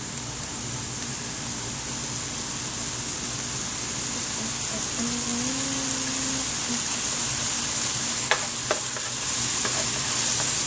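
Steady hiss of oil sizzling in a pot while Jamaican callaloo with smoked red herring cooks, a constant close crackling texture with a faint tonal hum underneath and a couple of brief clinks near the end.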